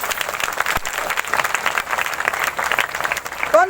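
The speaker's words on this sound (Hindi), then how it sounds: "ताली बजाएंगे परमेश्वर के लिए।" A church congregation at a Hindi-language Easter service claps in loud, dense applause throughout, close and continuous with no speech over it.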